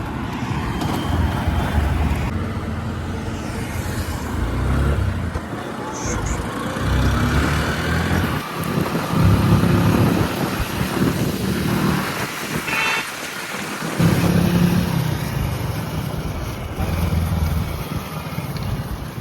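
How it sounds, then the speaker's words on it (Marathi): Honda Shine 125 motorcycle ridden along a road, a steady engine drone with wind rush that rises and falls over the ride, no talking. "आपण गाडी एक्सचेंज करतोय त्याची शाईन चालून पाहू आपण"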